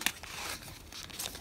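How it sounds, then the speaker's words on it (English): Plastic packaging on a My Little Pony Sea Swirl toy manual being torn open up close, a crisp crinkling rip with a sharp snap at the start and another burst near the end. "Let's try not to rip it like before."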